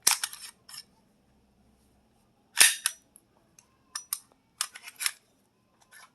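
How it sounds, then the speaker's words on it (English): An Ekol blank pistol firing a flare, one sharp crack near the start and another mid-clip, each followed by fizzing, clicking mechanical handling sounds, close and loud with no talk. "You will fire it, and when you fire it, the flare will shoot out into the air."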